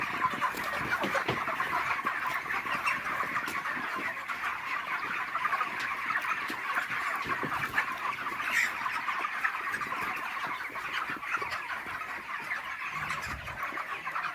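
Broiler chickens, about 35 days old, cluck and chatter steadily on a poultry farm, a dense flock sound that carries on without a break at moderate loudness.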